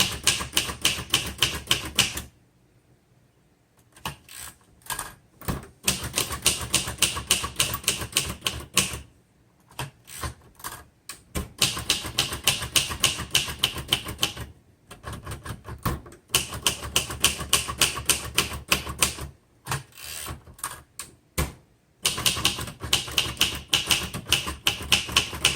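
A 1963 Royal Safari vintage manual typewriter being typed on, crisp rapid key strikes in bursts separated by short pauses, loud and close with no voices.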